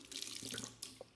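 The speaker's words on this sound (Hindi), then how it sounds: "पानी डालो थोड़ा" Water runs briefly from a tap for hand washing, a short, faint splash in a home setting.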